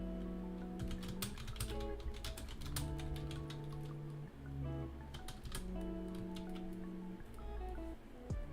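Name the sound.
computer keyboard typing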